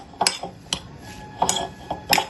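Utensil clinks against a bowl while papad roll filling is mixed, several sharp metallic taps in an uneven rhythm, close and fairly clear with no talking.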